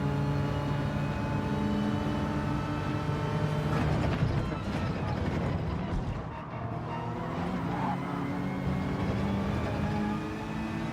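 Race car engine roaring at high revs while slipstreaming down a straight in Gran Turismo 7, a steady loud whirring drone that holds throughout, swelling slightly midway, with a voice talking underneath.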